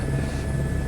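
A helicopter hovers in Microsoft Flight Simulator 2024 over Paris, its engine and rotor making a loud, steady drone with a low throbbing hum and no talk.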